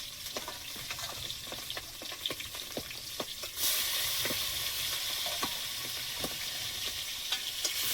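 Large pabda fish fry in hot oil with constant close sizzling and sharp spattering pops, the crackle swelling noticeably louder partway through, with no talking.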